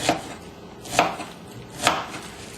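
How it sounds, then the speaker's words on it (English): A knife dices onions on a cutting board for pico de gallo, three distinct close chops spaced about a second apart, fairly quiet and alone. "And you're making nice diced onions"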